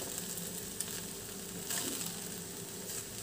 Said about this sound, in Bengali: সব দিয়ে আবার ভালো করে ওপর নিচ করে দিচ্ছি।